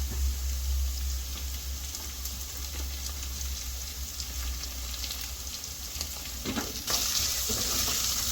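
Ginger, garlic, green chilies and curry leaves frying in oil for a white bitter gourd pickle, a continuous crackling sizzle with occasional stirring clatter and a brighter burst of spitting near the end.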